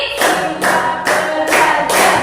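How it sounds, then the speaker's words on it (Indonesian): A group claps five times in an even, steady rhythm, each clap a crisp burst of many hands close by with short gaps between. "Tepuk 5 kali."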